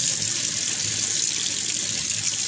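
Tap water runs in a steady, close, loud stream as a hand is held beneath it at a sink, a continuous hiss with no talk.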